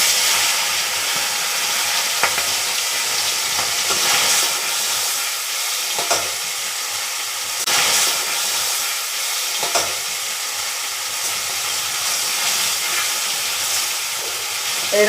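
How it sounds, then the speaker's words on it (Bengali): Small fish frying in hot oil in a Bengali home kitchen: a steady, dense sizzle and hiss runs throughout, with faint clinks and stirring sounds rising briefly above the frying. "এরকম করে সব মাছগুলোকে আমি ভেজে নেব।"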